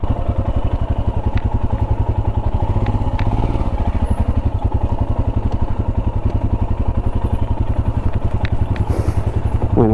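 Motorcycle engine running loud and close for the whole stretch, a rapid pulsing thump with some clatter, alone with no talk over it.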